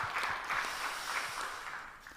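Church congregation during a Sunday worship service gives a brief, faint round of applause, soft scattered clapping that thins out toward the end.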